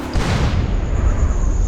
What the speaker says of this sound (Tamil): எல்லாருக்காரையும் வெடிக்க வச்சுட்டேன்.